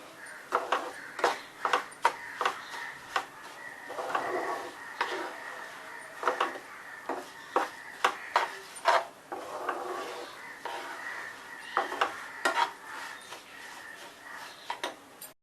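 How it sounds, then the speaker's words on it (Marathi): A sweet sesame and jaggery filling for tilgul vadi is stirred in a pan, giving a steady run of soft scraping and rubbing strokes that repeat roughly every half second, close and fairly quiet. "आता हे छान असं मिक्स करून घ्यायचं आहे"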